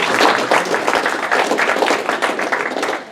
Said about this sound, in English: Big round of applause for Sandy.